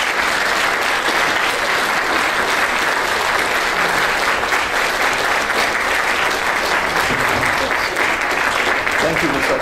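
An audience applauding to welcome Professor Rufus Fears at a lecture in Grand Rapids, a dense, steady wash of clapping from a large crowd that holds loud and even throughout.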